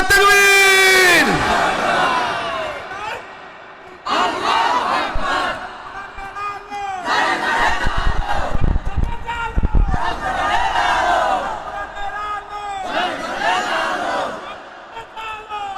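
A large crowd at an Islamic sermon gathering shouts Allahu Akbar in unison in reply to a takbir call, with several loud, ringing collective bursts that rise and fade one after another.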